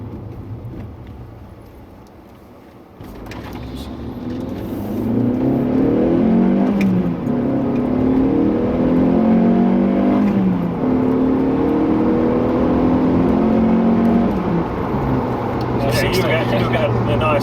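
Car engine revving from inside the cabin, a deep rising and falling induction roar that swells through repeated gear pulls after a quieter start, with people talking over it.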